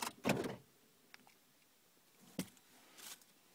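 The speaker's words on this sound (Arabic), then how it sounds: "إلين تسمع الأبواب تقفلت" Car door locks actuating during remote key programming, a soft muffled clunk followed by a couple of fainter clicks and thuds in a quiet setting.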